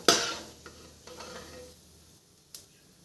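Cashews frying in ghee in a pan as a spoon stirs them, a sharp scrape at the start followed by a soft sizzle and a few light clinks of metal against the pan.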